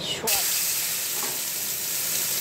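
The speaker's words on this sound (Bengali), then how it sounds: "সোয়াবিনে আমি লবণ হলুদ মাখিয়ে সোয়াবিনটাকে আমি ভেজে নিচ্ছি।" Soybean chunks coated in salt and turmeric hit a little hot oil in a pan, setting off a steady, close sizzle that hisses on without a break after a brief clatter at the start.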